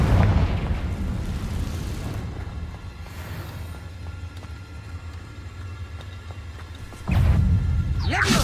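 Confringo fire spell blasts in Hogwarts Legacy, a heavy low rumbling explosion at the start that fades to a sustained rumble, then another deep boom near the end.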